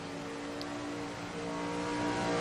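Race car engine droning steadily in the iRacing sim game during a practice session at Charlotte, a continuous mid-pitched whine with slight swelling toward the end and no talk.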